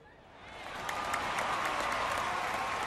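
Crowd applause in a 1950 Tigers-versus-Cardinals baseball video game swells from a soft start into a steady, broad wash of clapping that holds to the end.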